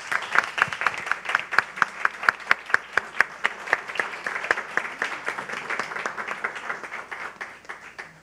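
An audience applauds at a debate on trans visibility: dense, sustained clapping from many hands, steady and fairly loud for the full length, with a faint voice under it.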